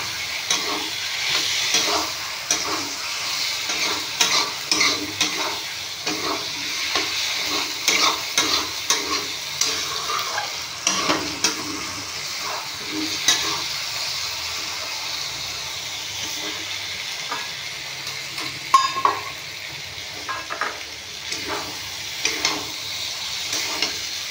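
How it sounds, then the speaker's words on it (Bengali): Pointed gourd and potato sautéing in oil in a pan, a steady close sizzle with frequent scraping stirs throughout, no talking. "তো আমার কষানো হয়ে গেছে পটল আলুটা, তেল ছেড়ে দিয়েছে দেখুন বন্ধুরা"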